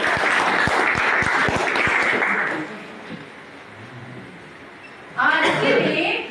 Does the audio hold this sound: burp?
no